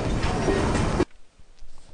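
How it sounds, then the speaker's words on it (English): A train in the video game Vivisector pulls out, a loud dense rumble and rattle lasting about a second before cutting off abruptly to near silence. "Train's about to leave."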